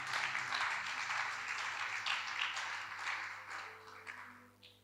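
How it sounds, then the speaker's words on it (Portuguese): A church congregation applauds, a broad wash of clapping that slowly fades toward the end, heard faint and at a distance with a low steady hum underneath. "Uma linda salva de palmas."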